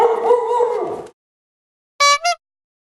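Small puppy vocalizing: a drawn-out whiny howl lasting about a second, a pause of silence, then two quick sharp yips, close and loud.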